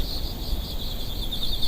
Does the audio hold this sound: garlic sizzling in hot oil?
no